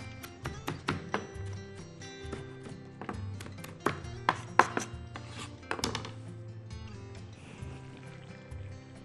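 Knife chopping parsley on a cutting board for a green bean, rice and tomato dish, heard as a series of sharp, close taps in irregular bursts with softer scraping between them and no one talking.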